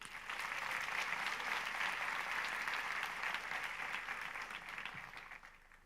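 Audience at a university commencement ceremony gives a sustained round of applause, heard faint and distant, a dense wash of clapping that slowly thins out.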